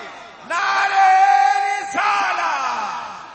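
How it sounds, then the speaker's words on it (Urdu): A religious gathering answers with a loud shouted takbir chant, the crowd's voices rising together in two long, swelling bursts. "تکبیر، نعرے"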